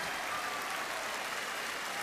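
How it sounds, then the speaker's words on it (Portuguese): Audience applause at a live concert, a steady wash of clapping from a large crowd with no voices on top. "não param de aplaudir, batem palmas"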